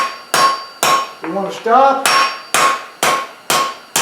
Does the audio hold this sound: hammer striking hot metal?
yes